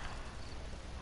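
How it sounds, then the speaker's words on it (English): Horse hooves clip-clopping steadily in the video game Realm Royale, a continuous close rhythm of hoof hits over a dense, noisy game soundscape with no talking. "Oh, I forgot I got a horse."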